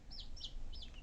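A Brahma rooster, feather-legged, gives a few short rising clucks close by, alone against a soft background hiss.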